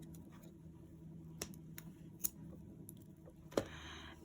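Scissors snip off crochet yarn with a few quiet, isolated cuts in a hushed room, and the last snip is the sharpest.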